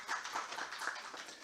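Applause from a conference audience welcoming the session chair at a forum on AI, peace and the environment: a dense, steady patter of many hands clapping for about a second and a half, with no voices over it.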